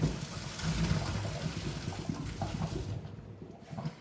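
Boiled cauliflower is drained, giving a close rushing pour of water that settles into trickling and then fades to near quiet, with a last small splash.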